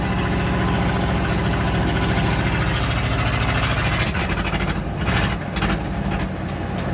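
An old Dodge Sweptline truck engine pulls in fourth gear, a loud, steady low-pitched rumble with a throbbing mechanical drone, roughening slightly toward the end.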